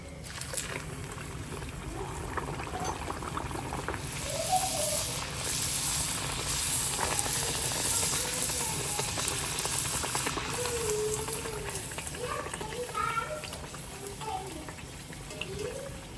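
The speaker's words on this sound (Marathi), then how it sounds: "सो आता तेल गरम झालं ना की पुऱ्या आपण तेलामध्ये मस्त फ्राय करून घेऊया" Puris deep-frying in hot oil give a steady, dense bubbling hiss that runs throughout, with a voice talking over it.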